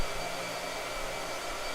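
A blow dryer runs steadily at close range, a continuous even whoosh with no pauses, alone and without any talk.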